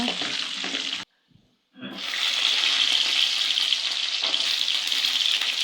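Dried red chillies, garlic cloves and a piece of ginger sauté in hot oil in a pan, a steady hissing sizzle broken by a sharp one-second silence before the frying resumes louder.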